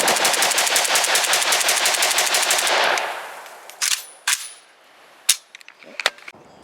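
An Arsenal SAM7 SF rifle fires a rapid string of loud shots for about three seconds, followed by several scattered single reports and metallic clinks, close and sharp.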